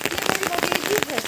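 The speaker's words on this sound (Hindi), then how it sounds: "अच्छा, बारिश तो रुकने का नाम नहीं ले रही है।" Rain falls steadily on surfaces in a village, a dense close patter of drops filling a short stretch with no pause.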